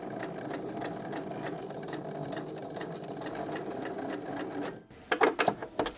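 A sewing machine stitches a dress in a steady, rapid whir that continues for about five seconds before stopping. A few short clicks and handling noises follow.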